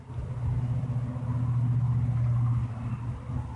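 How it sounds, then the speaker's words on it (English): Traffic on a big highway behind a house, a steady low rumble swelling as a vehicle passes nearby and then easing off, heard from a backyard with no talk. "we have a big highway right behind the house."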